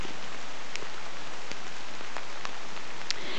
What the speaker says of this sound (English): It has been raining for hours today.